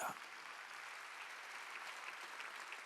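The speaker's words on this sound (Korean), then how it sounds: "박수 치라 이게야" A church congregation applauds during a Sunday worship service, a dense, steady wash of many hands clapping that carries on throughout, fairly distant and even.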